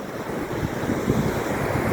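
Sea waves roll in at Kovalam beach, a steady, close wash of surf mixed with wind noise that continues without pause and without voices.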